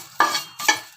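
Masala spices being dry-roasted in a pan, with three bursts of scraping and stirring against the metal over a soft sizzle, close and fairly loud.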